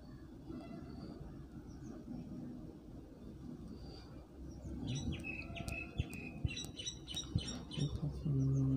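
A sparrow in a tree gives a scattered run of short, high chirps in the latter half, fairly faint and set against a steady low rumble of background noise.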